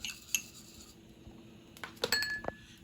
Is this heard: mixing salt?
yes